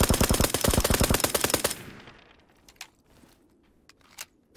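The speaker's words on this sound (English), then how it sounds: "I hit this guy a bunch with the little pistol" Rapid automatic gunfire in PUBG on Xbox One X, a fast rattling burst of evenly spaced loud shots lasting nearly two seconds, then a few faint distant pops trailing off.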